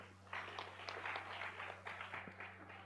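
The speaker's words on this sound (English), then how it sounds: "Let's clap for them." Faint clapping from an audience at a nursing and midwifery quiz, honoring a team that just answered correctly; a brief, fairly even patter of hands over a steady low electrical hum.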